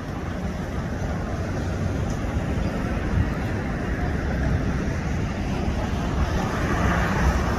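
Steady wind roars across a city street in the capital, a continuous broadband rush with gusting buffets against the microphone and no clear voices.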